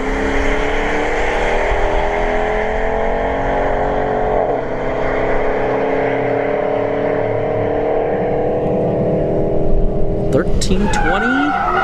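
A C6 Corvette makes a drag racing run at a motorsports park: a loud, continuous engine roar climbs through the gears, with tire squeal and skidding rising near the end over a steady outdoor background.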